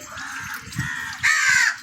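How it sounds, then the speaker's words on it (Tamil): A crow cawing in a family home setting, several harsh nasal calls in quick succession, the last one louder and longer, heard fairly close without talk. "காக்கா தெரியுதா"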